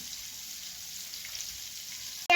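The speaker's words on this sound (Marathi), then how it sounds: "इथे मी अशा प्रकारे सगळे बोंबील तव्यात टाकलेले आहेत आणि मीडियम गॅसवरती तुम्हाला फ्राय करून घ्यायचे आहेत" Bombil fish frying on a tava over medium heat with crushed garlic, a soft steady sizzle heard alone, ending with a sudden sharp clatter.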